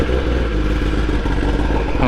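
A 2017 Kawasaki ZX10R sportbike's exhaust revs loud and close for a brief burst, a raspy engine roar under what may be a voice.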